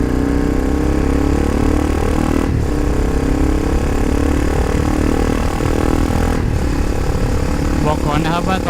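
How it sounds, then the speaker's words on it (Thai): Honda CBR300R exhaust with low glass-wool packing gives a slightly cracked, sharp tone, heard as a continuous loud engine note with revving swells throughout. "บอกก่อนนะครับว่าตอนนี้เสียงท่อมันอาจจะแตกๆหน่อยเพราะรู้สึกเหมือนใยแก้วมันจะน้อยมากแล้วเสียง"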